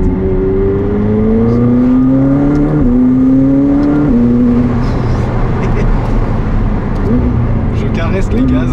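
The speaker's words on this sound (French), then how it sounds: "Je caresse les gaz." A McLaren 765LT with a dual-clutch gearbox accelerates gently, its engine note climbing steadily through several rising steps as gears change, loud and close throughout, with someone talking over it.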